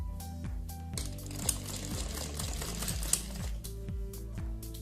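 A sewing machine stitches lace onto a puff sleeve of a blouse, its needle running in quick steady bursts with brief pauses and clicks between, close and moderately quiet with no talk.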